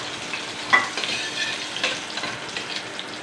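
Garlic sizzles in a hot pan while being stirred, a busy crackling fry with scraping stirs and small pops, close and steady throughout.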